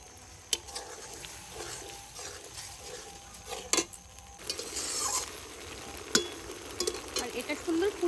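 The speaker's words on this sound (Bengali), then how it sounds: "এবার এই জলটা ঢেলে দেবো এর মধ্যে" Water is poured into chilli chicken sauce in a pan and stirred, giving a soft sizzling, bubbling texture with occasional scraping clinks of utensil on pan, moderately quiet and close.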